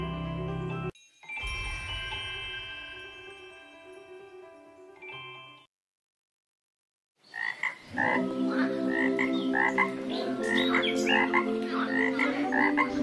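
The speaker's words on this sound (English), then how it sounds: "A frog is sitting on a log." A cartoon frog sitting on a log croaks in an animated children's story for first graders. Repeated, loud, rhythmic croaks follow a stretch of background music and a brief silence.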